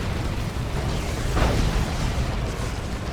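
A Bioplasma shot bursts in a Dawn of War 2 battle, one dull explosive boom swelling midway through a dense wash of continuous battlefield rumble and noise.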